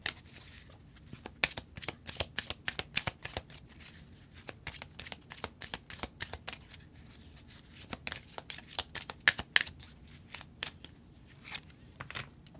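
Romance Angels oracle cards being shuffled by hand, a long run of crisp, quick snapping riffles and soft slides in irregular bursts, close up and quiet with no talking.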